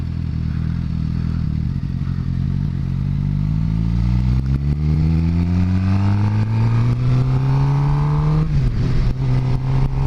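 A car engine with an essentially straight-pipe exhaust ending in a muffler tip drones loudly and close, its tone rising steadily as it accelerates, then dropping briefly before settling into a steady roar.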